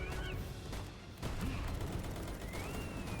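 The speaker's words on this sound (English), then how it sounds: "Oh, that is throwing so many grenades." A Syndicate Grenadier throwing many grenades in the video game Palworld: dense, continuous explosive crackle and booms under a busy battle mix, faint and distant-sounding, with a sharp impact near the middle.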